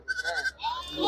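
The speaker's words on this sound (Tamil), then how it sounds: "இது கடா குட்டிங்கண்ணா" A young male goat kid at a livestock market in Kunnathur bleats twice, loud and close, each call a wavering nasal cry, with a voice audible nearby.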